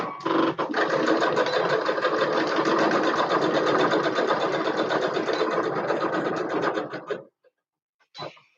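A home sewing machine runs a quick stitch in one continuous, loud, rapidly pulsing whir for about seven seconds, then stops; a short burst of noise follows after a brief silence.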